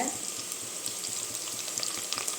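Curry leaves frying in hot oil for a country-chicken biryani made in a pressure cooker, giving a steady close sizzle with crackling pops throughout and no talk.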